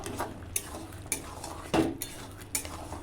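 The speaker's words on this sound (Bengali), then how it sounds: "গরম মশলা চিনি দিয়ে নেড়ে দেবো" Ripe jackfruit curry being stirred after garam masala and sugar go in, with a few separate utensil scrapes and clinks against the pot over a low background hum.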